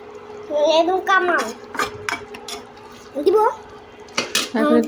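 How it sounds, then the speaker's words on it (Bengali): Beef curry is stirred in a cooking pot, with a metal spoon scraping and clanking against the pot in short bursts between bits of conversation. "দাঁড়া একটু নেড়ে দিই"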